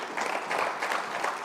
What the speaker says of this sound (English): Round of applause for Jeline Berger and Marco Erickson.